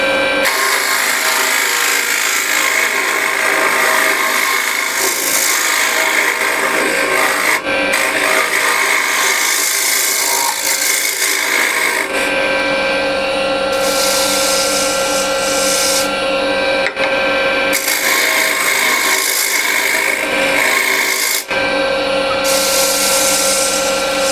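A woodturning scraper cuts wood on a lathe with a steady, continuous rasping scrape. The sound runs loud and close throughout, with slight shifts in tone as the tool moves along the curve.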